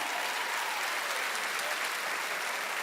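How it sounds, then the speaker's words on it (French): Steady, dense applause from a comedy gala audience, loud and continuous throughout with no pauses. "Un tonnerre d'applaudissements pour la magnifique Ginette."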